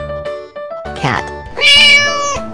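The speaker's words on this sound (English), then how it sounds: "Cat." A cat meows several times in quick succession, clear and close, the last cry rising louder and higher, with no talking.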